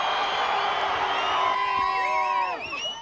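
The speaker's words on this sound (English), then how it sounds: "The crowd roars as the Dallas Cowboys take over San Antonio" A large crowd of Dallas Cowboys fans cheers and whoops at training camp in San Antonio, a dense sustained roar with rising shouts and whistles.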